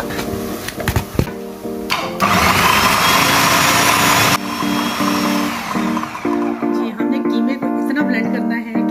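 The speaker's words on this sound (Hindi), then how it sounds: "ब्लेंड कर लेंगे पहले जी।" An electric blender works through onions, tomatoes, ginger and green chillies with a loud, harsh whirring burst that then drops to a lower, uneven grind, while a person talks.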